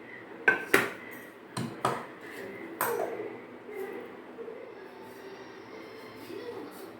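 Turmeric powder goes into a container and the lid closes, producing several sharp metallic clinks and rattles close up, then a fainter shuffling and scraping that tapers off.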